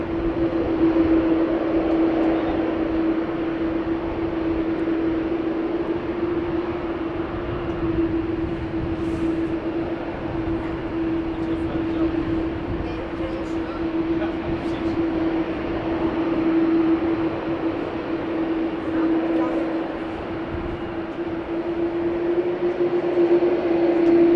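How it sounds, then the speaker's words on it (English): Steady jet engine roar and drone of a private jet landing at Amsterdam Schiphol Airport, heard from a distance and continuous for over twenty seconds with a constant tonal whine. "Private jet going to land now"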